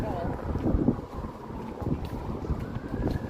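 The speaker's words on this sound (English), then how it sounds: "the wind was drowning out my voice" A strong, cold winter wind gusts along a downtown Toronto street on a Sunday afternoon, buffeting the microphone with a continuous loud, low roar while faint voices murmur underneath.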